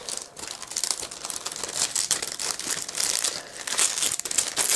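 Close, steady crinkling and rustling of a plastic mesh seed-potato bag, with a dense run of small crackles as the bag is cut open.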